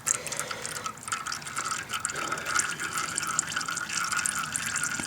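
Engine oil pours steadily from a 2008 Suzuki GSX-R 600 motorcycle into a drain pan, a continuous close liquid trickling and splashing with faint drips.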